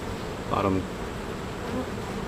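Honeybees buzz around hive frames during honey pulling, a soft steady hum with a brief louder buzz as a bee passes near, and no talk.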